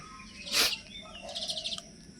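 Pet pigeons in a loft give a loud close call, then a string of quick, bright chirping notes, heard alone with no talk.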